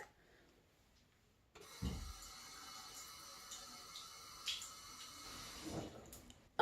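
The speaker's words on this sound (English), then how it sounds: "First thing I have to do is wet my brush" A tap runs to wet a makeup brush, starting abruptly after a quiet moment and then flowing steadily with a few splashy surges until the end.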